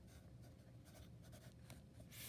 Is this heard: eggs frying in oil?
no